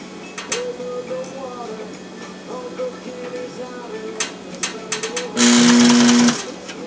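A sewing machine running slowly on a tactical dump pouch, stitching in soft ticking steps, then a louder steady motor hum near the end as it speeds briefly; faint sounds between stitches.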